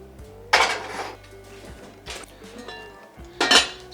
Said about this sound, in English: Now we're getting this super hot cast iron out of the oven.